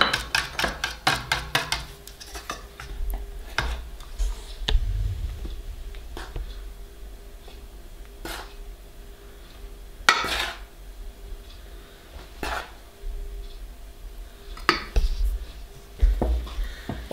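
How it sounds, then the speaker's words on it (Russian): A spoon works thick yeast dough for cheese buns (vatrushki) in a bowl, with softened butter and flour worked in, giving repeated scraping and knocking clatter against the bowl at an irregular rhythm, close and fairly loud, with no talking. "Вот смотрите, как я вымесила тесто ложкой, до какого его состояния."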